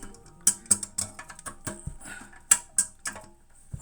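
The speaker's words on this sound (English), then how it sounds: "we're gonna loosen it until it's completely loose, and we're just gonna take that nut off" A nut being loosened on a Fluidmaster 400A toilet fill valve, with a series of close, sharp ratcheting clicks and small plastic taps in an irregular rhythm and no talking.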